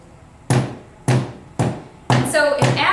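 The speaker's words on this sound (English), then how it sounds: "you're going to hammer down on it" Five sharp hammer blows on dried corn being ground toward a powder, evenly spaced about half a second apart, close and loud, the last two overlapping with a voice or squeal.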